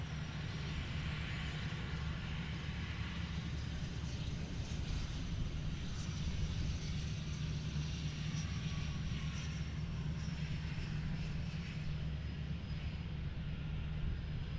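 An Embraer airliner at Bergstrom International Airport rumbles in a steady, distant engine roar with broadband whooshing that holds throughout, faint and continuous, with no talk.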